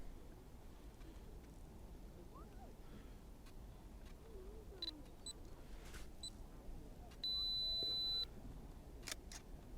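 A camera's two-second self-timer beeps, a short bright tone and then a sustained beep, followed by shutter clicks in a quiet outdoor lakeside setting at Crow Park in the Lake District.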